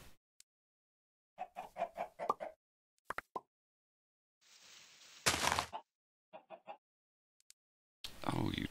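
Short bursts of chicken clucking from the Minecraft modpack Sky Factory 3, separated by silent gaps, along with a few thuds and brief noisy game effects.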